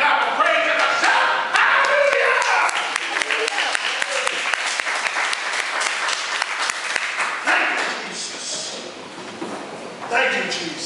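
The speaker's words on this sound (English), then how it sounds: "give a God a hand clap of praise and a shout" A church congregation bursts into applause and hand claps of praise, a loud dense clatter of clapping mixed with shouts and voices that gradually thins toward the end, then swells briefly again.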